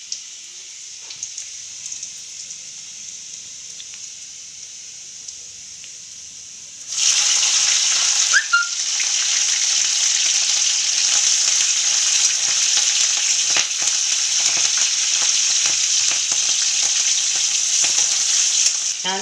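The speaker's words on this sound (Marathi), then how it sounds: "मग त्याच्यात नंतर मिरच्या टाकायच्या." Garlic sizzles quietly in hot oil in a pan, then a loud, steady frying hiss bursts up as chillies are dropped in, with crackling continuing close up to the end.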